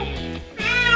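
A young kitten, freshly bathed after being found outdoors in winter, gives two close, clear meows, the second longer and louder.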